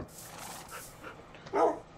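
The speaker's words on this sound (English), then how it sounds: "Can you stop barking?" A dog gives one short, loud bark near the end of the clip, over a faint background hum.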